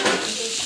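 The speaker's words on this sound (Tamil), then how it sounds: "ஸோ நல்லா வந்து வதக்கிட்டுக்கோங்க." Spice powders, including chilli, turmeric and coriander, are sautéed in a pan with a steady, loud sizzle and a brief stirring scrape, heard up close without talk.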